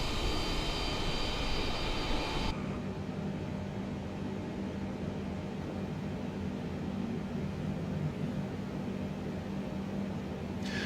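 Simulated Boeing 787-10 engines in Emirates livery at Dubai in Microsoft Flight Simulator 2020, a steady broadband roar with a low hum that shifts to a duller, deeper drone partway through, continuous and without talking.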